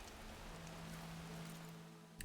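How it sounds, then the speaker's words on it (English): Rain falling in the Horizon Forbidden West video game, a soft continuous patter with a low droning tone underneath, ending in a brief sharp click. "Land was bracing for this rain."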